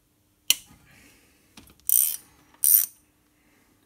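A torque wrench clicks and ratchets on the cylinder head bolts of a Renault Clio 2, giving a sharp click followed by two longer bursts of ratcheting, close and isolated against a quiet background.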